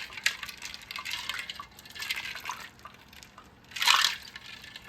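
Cold water runs and splashes as homemade butter churned from heavy cream is rinsed, in a few soft bursts of spattering and dripping, close and fairly quiet.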